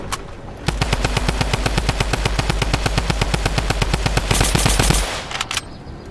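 Automatic gunfire in the video game Fortnite rattles out as one long, loud, rapid burst of evenly spaced shots, followed by a few scattered single shots.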